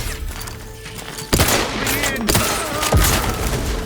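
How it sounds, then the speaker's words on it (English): Combat in The Outer Worlds 2 as enemies throw grenades, with sudden loud blasts and thuds amid gunfire, several sharp impacts over a busy background, and a voice speaking briefly under the action. "Oh, they throw grenades too."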